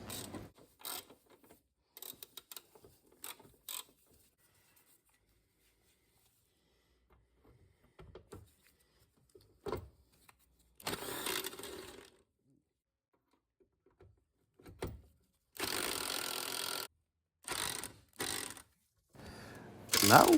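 Rear suspension bolts on a Rover 75/MG ZT are tightened by hand in short, separate bursts of ratcheting, clicking and mechanical rattling, with quiet gaps between them.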